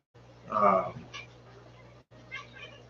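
A cat meowing inside a room: one faint, drawn-out meow, followed by soft, indistinct murmurs against a low, steady background hum.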